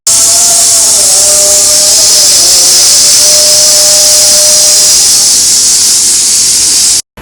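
A pressure cooker cooking lentils lets off a loud, continuous steam hiss with faint whistling tones for about seven seconds, then cuts off abruptly.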